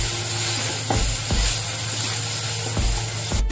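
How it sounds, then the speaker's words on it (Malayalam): Masala with garam masala and chilli powder frying in a pan for a Kerala fish biryani, a loud continuous sizzle with periodic scraping stirs of a spatula. "മുളക്പൊടിയിലേക്ക് പച്ചമണം മാറുന്നത് വരെ ഒന്ന് ഇളക്കി"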